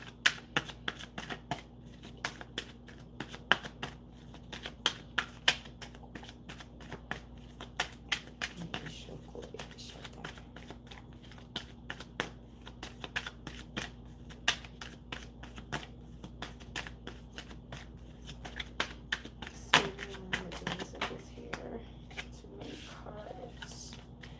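Tarot cards shuffled by hand in irregular bursts of quick crisp snaps and flicks that continue throughout, over a steady low background hum, with faint occasional voice.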